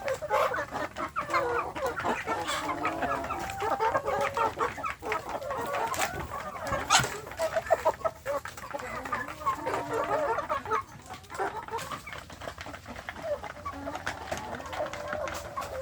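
Young free-range village chickens (ayam kampung) being raised for breeding cluck and chatter steadily nearby, while a person talks over them throughout.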